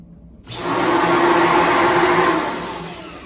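A Shark UV580 corded stick vacuum switches on and runs steadily with a loud, even whirring hum, then begins to wind down near the end.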